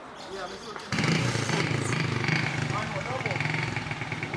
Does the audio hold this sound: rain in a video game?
no